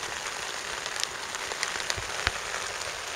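Heavy rain pelts a tent on Skye in a dense, steady hiss, with sharper individual drops tapping close by on the fabric.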